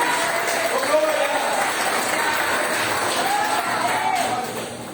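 Applause from a congregation at an IIBF church service in Maringá, a steady broadband wash of many hands clapping for about five seconds, with voices faintly audible underneath before it tapers off at the end.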